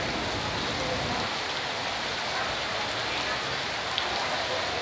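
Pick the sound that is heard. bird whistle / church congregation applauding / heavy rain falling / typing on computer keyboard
heavy rain falling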